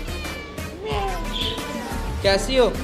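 A soft-furred cat for sale at a pet market in Lahore meows several times, short rising cries close by, mixed with people chatting and market background noise.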